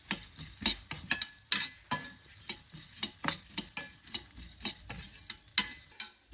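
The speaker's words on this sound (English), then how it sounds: "you have to keep moving these things around so they all fry evenly" Chana dal and urad dal being roasted in a pan, with a spoon scraping and stirring them in quick irregular strokes over a faint sizzle, close and fairly loud, with no talking.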